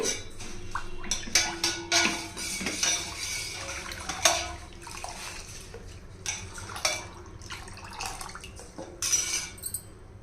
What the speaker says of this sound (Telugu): ఇప్పుడు మనం సరిపడినన్ని నీళ్ళు పోయాలి